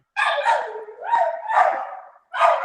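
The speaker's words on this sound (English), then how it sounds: "I hear the dog." A dog barks and howls in a run of loud, close, drawn-out barks with a short pause before the last one, heard alone in an indoor setting.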